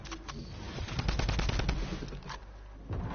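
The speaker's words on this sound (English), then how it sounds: "Oh, they've got a Tommy gun." Rapid bursts of Tommy gun fire in an online duos shooter game, several quick volleys of automatic shots clustered together, fairly close and loud, with brief gaps between bursts.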